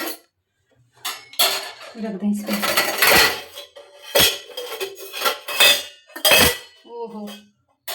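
Metal pots and dishes clatter and clank in several loud bursts at close range, handled and set down in a home kitchen, with someone talking between the clangs.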